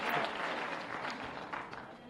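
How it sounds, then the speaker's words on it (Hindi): An audience at a youth dialogue program in Bhopal applauding loudly, a dense sustained wash of many hands clapping that tapers slightly toward the end. "तो जोरदार ताली बजाओ इस बात के लिए।"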